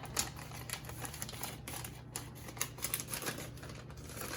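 Quiet, irregular clicks and snips of scissors cutting through a thin plastic bag, close by and faint, with no talking.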